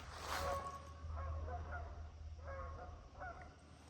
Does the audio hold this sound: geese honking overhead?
yes